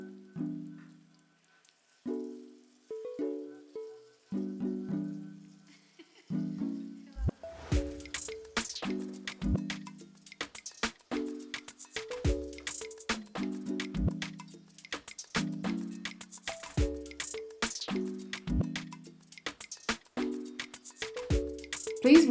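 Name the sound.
prawns frying in butter in a pan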